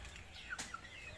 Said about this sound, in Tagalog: Yung mga manok namin.